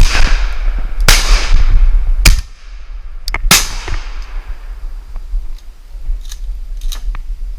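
Shotgun blasts ring out during an opening-day wood duck hunt, with three or four loud, sharp reports spread over several seconds and a rumbling echo between them. Faint clicks and rustles follow in the outdoor quiet.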